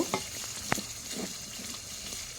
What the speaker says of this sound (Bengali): সেগুলো এখন মশলার সাথে কষাই নিব।